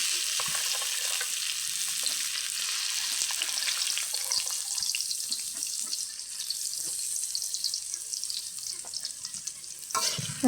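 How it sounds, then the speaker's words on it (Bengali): Onion fries in oil in a wok, a continuous close hiss and crackle with faint stirring scrapes throughout, steady in level and free of talking. "এবার কড়াইতে আমি পেঁয়াজ দিয়ে দেব"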